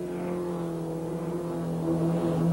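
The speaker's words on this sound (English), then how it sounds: "Raymond Davy, looks like a rally driver as he slides around Moss Corner in a spray of dirt." A 1986 Porsche 944 race car slides around a dirt-sprayed corner on a racing circuit, its engine a steady, loud drone with strong harmonic tones that swell slightly toward the end.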